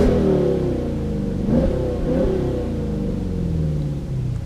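A Dodge Challenger, Charger or 300 engine with an Airaid cold air intake holds a steady high rev between 4,000 and 5,000 RPM, a loud continuous droning roar that stays constant throughout with no talking.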